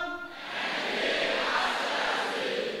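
A large crowd of new university students at Universitas Ma'arif Hasyim Latif Sidoarjo roars a shouted reply to a call-and-response chant, the brief lead voice at the start giving way to a loud, sustained wall of voices.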